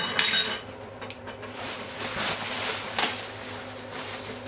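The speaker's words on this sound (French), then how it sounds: "Je vais sortir les pots." Glass jars are lifted out of a pot after low-temperature cooking of beef tongue in sauce, with a few light clinks and knocks of glass and metal spread over a quiet background.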